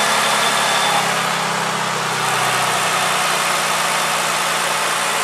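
A car engine idles steadily and close by while its coolant is flushed, giving a constant low hum under broadband mechanical noise with no speech.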